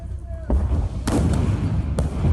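Combat news footage of Ukrainian ground forces fighting Russians with rocket-propelled grenades and a machine gun: a few sharp, heavy bangs spaced about half a second to a second apart over a rumbling background.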